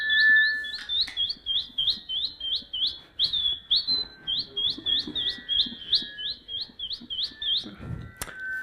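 A human voice imitating a sparrow, giving a rapid run of about twenty sharp, bright chirps in a steady rhythm, close and fairly loud, ending with a brief pause.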